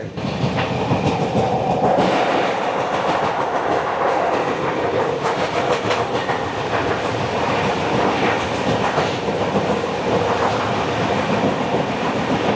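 Kaziranga Express rolling on its rails between Bardhaman and Birbhum districts near the Ajay river bridge, a steady loud rumble with rhythmic clickety-clack of wheels over rail joints throughout.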